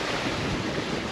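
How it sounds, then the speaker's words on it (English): Strong 22-knot wind at sea aboard a sailboat on the Atlantic, a steady broadband roar of wind buffeting the microphone over rushing water and surf, continuous and loud with no voices. "the wind is kicked up, so we got 22 knots of wind, making great speed"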